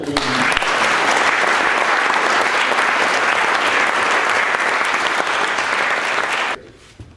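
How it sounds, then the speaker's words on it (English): Sustained applause from a large audience, loud and steady throughout, cutting off abruptly near the end. "I think a collective round of applause for all."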